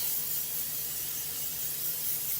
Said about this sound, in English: I'm going to spray it all down with olive oil spray.